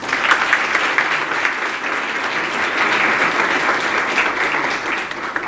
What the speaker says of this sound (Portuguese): uma salva de palmas, por favor, aos nossos investidores